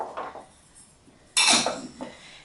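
Chopped butternut squash and parsnip being stirred in a bowl, producing a few light clinks and scraping knocks of utensil against dish, with one sharper clatter midway, quiet and close.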